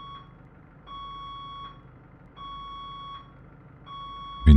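An alarm in the Emergency Call video game, set off by an elevator, beeps in long, even, repeating tones roughly every second and a half over a low background rumble, ending in a sudden louder thump.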